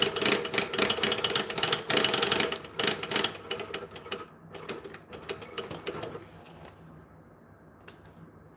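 Sewing machine backstitching, a fast rattling burst of needle strokes that slows and thins into sparse clicks, then fades to near silence with one final tap.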